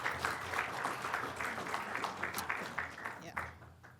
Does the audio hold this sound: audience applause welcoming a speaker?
yes